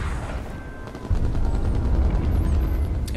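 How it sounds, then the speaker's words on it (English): Gunfire during a fight in the video game H1Z1, a dense rumbling barrage of shots that grows heavier after the first second, loud and continuous with no talk. "starts off the next engagement with some sniper work"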